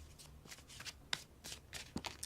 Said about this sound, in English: And you can shuffle them like this as well.